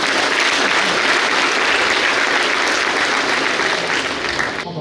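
Loud, dense applause from a large audience at a Success Day event in Ouagadougou, sustained evenly throughout and cutting off sharply at the very end.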